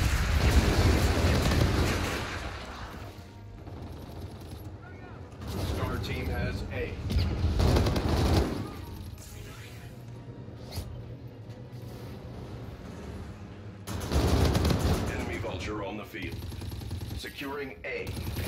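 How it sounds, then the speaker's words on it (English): Heavy explosions and bursts of gunfire from an enemy bombardment in a first-person shooter game, rumbling in several waves with quieter gaps between, while an announcer voice speaks over the action. "Enemy bombardment incoming."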